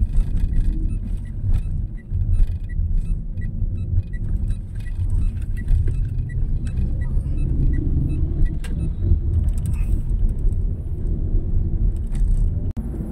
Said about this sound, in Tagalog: Traffic na ngayon.